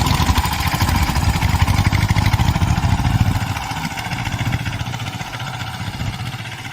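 A VST power tiller and a Sanedo engine run hard together, making a loud, close, continuous rapid chugging that eases a little midway and then carries on steadily.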